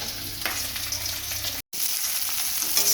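A fish head fries in hot oil for Bengali-style home cooking, giving a loud, continuous close sizzle and crackle, broken by one brief silent cut midway.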